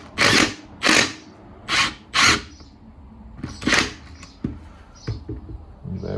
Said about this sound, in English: coming back in with my impact wrench